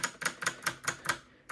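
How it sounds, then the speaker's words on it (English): Keystrokes on a low profile keyboard, about seven firm, evenly spaced clicks close by, a short pause, then one more tap, with no talking. "And of course, my low profile keyboard."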